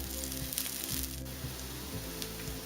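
Aloo tikki potato patties fry in oil over a medium to high flame on a pan, giving a steady, close sizzle with a faint crackle and no voices.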